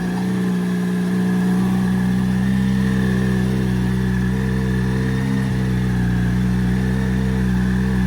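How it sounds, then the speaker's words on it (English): A 2005 Yamaha R1 sport motorcycle engine idles steadily and quietly at close range, an even low hum with a fixed pitch and no change in level, no voices. "Engine sounds nice and quiet."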